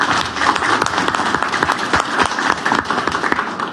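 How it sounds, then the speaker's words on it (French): Applause at a Nouveaux Démocrates press conference in Mauritius, a steady, loud wash of many hands clapping close by, continuous throughout with a faint voice beneath. "Véronique Legovine, qui nous applaudit"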